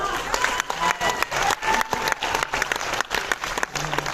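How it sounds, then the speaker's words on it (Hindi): An audience at a Bhojpuri film awards ceremony breaks into loud, steady applause for a best editor award, dense clapping from a crowd with scattered cheers and voices. "जोरदार तालियां।"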